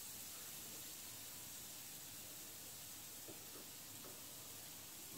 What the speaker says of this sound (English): Ooh, listen to that sizzle,